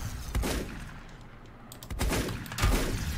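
Gunfire in the video game Volcanoids: a few heavy booming shots spaced apart, loud and close, each rolling off into a rumbling tail.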